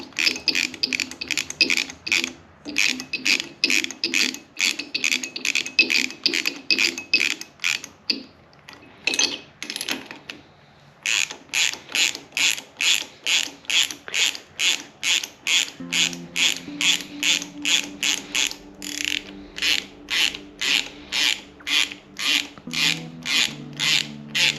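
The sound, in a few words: loosening tight bolts, likely with a ratchet, on a Kawasaki KZ900 rebuild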